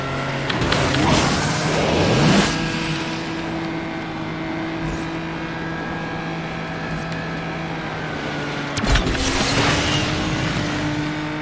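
Nissan 370Z race car engine in Asphalt 9, a steady droning hum with revving swells near the start and again near the end, heard on its own.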